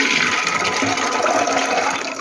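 Water pours steadily into a pressure cooker holding soaked chickpeas, a close, continuous gushing and splashing that holds for a couple of seconds with no talk.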